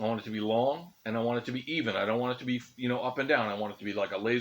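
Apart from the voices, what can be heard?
No everyday noises stand out.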